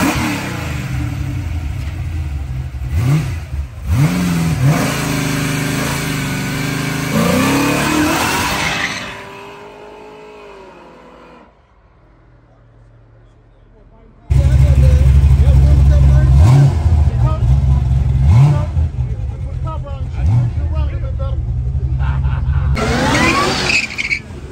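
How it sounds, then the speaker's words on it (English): A 392 Dodge Charger and a supercharged Cadillac CTS-V race in Arkansas, engines roaring loud and close with revving surges and a brief quieter lull midway, as people talk over the noise. "Supercharged Cadillac. Yeah, that Dodge sticking on fold."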